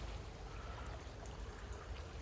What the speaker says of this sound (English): The water is gushing down.